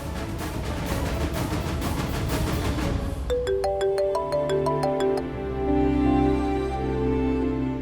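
A mobile phone plays an electronic ringtone melody, repeating a short chiming pattern over steady background noise, following a stretch of dense rustling sound.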